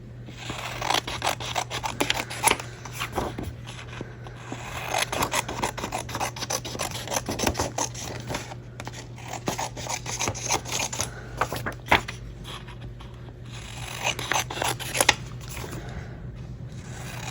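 Scissors cut paper for a DIY savings envelope with a continuous rasping, crunching stream of snips and rubs, close and fairly quiet, with no speech.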